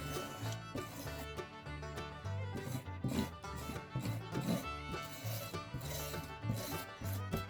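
Wire brush scrubbing charred wood in the Shou Sugi Ban method, giving repeated rasping strokes in an uneven back-and-forth rhythm, close and fairly quiet, with no talk over it.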